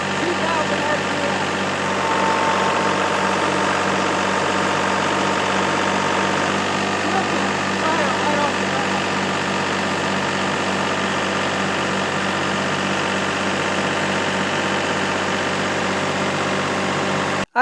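A Kubota tractor engine holds a steady 2000 RPM, a constant mid-pitched diesel drone with faint rattle and vibration, close and unbroken for the whole stretch with no talking.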